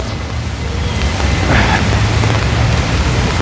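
Rain falling on a street in Copacabana, Rio de Janeiro, blown by wind, heard from under an umbrella: a loud, steady, dense hiss and rumble that does not let up, with no voices.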